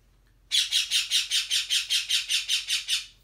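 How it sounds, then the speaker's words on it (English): A pet bird squawks at a mirror in a quick, even series of about a dozen loud, harsh calls, close and alone against a quiet background. "Is that a bird coming this way?"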